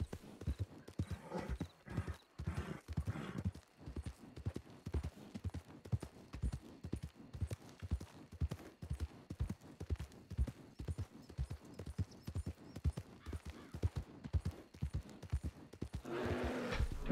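Horse hooves clip-clopping in Red Dead Redemption, a steady rapid rhythm of hoofbeats with a brief whinny near the end.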